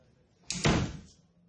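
A door swings shut indoors with a single firm thud and latch click, close and fairly loud, then a brief fading rumble.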